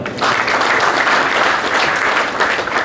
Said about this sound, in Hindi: उनके लिए भी एक जोरदार तालियां।